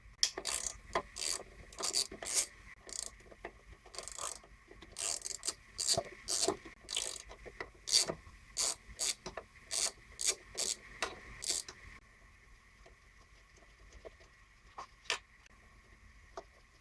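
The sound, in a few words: removing 10mm bolts from Briggs & Stratton engine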